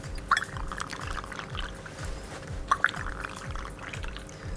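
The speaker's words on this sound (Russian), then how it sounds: "Наливаем, сливаем" Liquid poured from two bar jiggers into two glasses beside a mixing glass, heard as a couple of short, close splashing pours over a steady low background hum.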